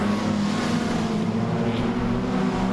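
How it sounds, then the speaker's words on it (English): Ford and Holden race cars at Archerfield circuit running close together, a steady loud engine drone with a sustained buzzing roar, no talking over it. "The teammates have got their cars up together there, Ronnie Young."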